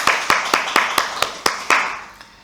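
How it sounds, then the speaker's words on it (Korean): A church congregation claps in a run of about eight sharp, evenly spaced claps that end in a brief burst, loud and close. "박수."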